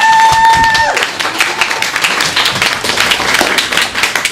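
An audience bursts into loud, sustained clapping and applause at the close of a live comedy and pantomime performance, a dense continuous patter after a brief opening tone.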